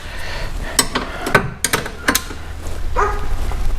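A wrench is thrown down onto a hard surface during rear shock work on a Triumph Spitfire, giving several sharp metallic clangs and clatters in quick succession, close and loud.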